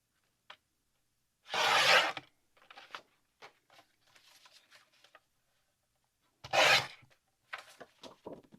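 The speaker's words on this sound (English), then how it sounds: "I'm just going to come in my trimmer and I'm going to cut this 6 by 6." A paper trimmer slices card stock to 6 by 6 for a fall paper bag mini album: two loud, brief cutting swipes well apart, with quieter shuffling and handling of paper between them, no talk.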